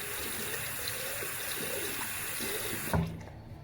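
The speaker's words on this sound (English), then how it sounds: "rinse the rest of the brush under the tap." Tap water runs steadily from a faucet into a sink while a makeup brush is rinsed under it, a continuous close hiss and splash that stops abruptly near the end, leaving a brief drip and a quieter room.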